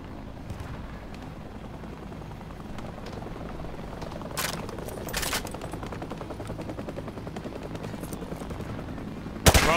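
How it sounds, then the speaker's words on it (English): A rifle fired from the hip in Call of Duty Modern Warfare 2 Remastered sounds out as bursts of game gunfire over a steady rumbling background, with a few sharper reports and a loud crack at the end. "Just fire from the hip."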